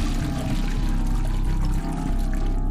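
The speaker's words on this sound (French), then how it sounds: "il est clairement en train de recevoir de l'essence dans la gueule le mec" Gasoline gushing from a rigged shower onto a man in The Happyhills Homicide, a continuous loud pouring splash with a low steady hum underneath, no talking.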